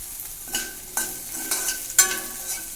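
Groundnuts sautéing in a pan for kadalai chutney: a soft frying sizzle under regular scraping stirs, about two per second, close and moderate, with no talk.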